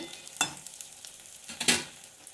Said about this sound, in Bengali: এটা হচ্ছে সজনে ফুলের এই যে বড়া হচ্ছে